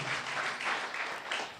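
A church congregation at a revival meeting claps in a steady rhythm of about five bursts, soft and somewhat distant, with no talking over it.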